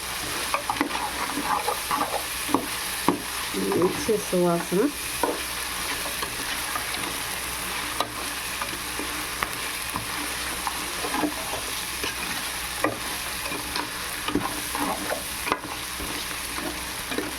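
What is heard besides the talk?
frying and stirring masala for prawn biryani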